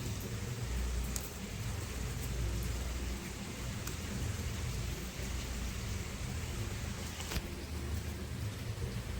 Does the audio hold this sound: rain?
yes